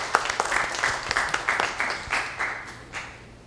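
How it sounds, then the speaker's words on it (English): A forum audience greets a speaker with fairly faint applause of individually distinct claps that thin out and fade toward the end. "Now let us welcome him with our warm applause."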